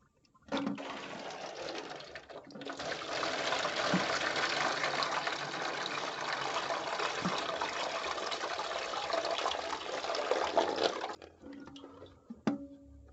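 Water poured from a milk jug through a funnel into a toilet makes a continuous, close gushing and splashing pour lasting about ten seconds, then stops, followed by a few faint drips and clunks.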